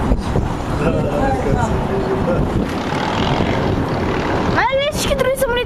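A propeller airplane drones steadily overhead through a loud, continuous engine roar while people talk nearby, with shifting whistling tones near the end.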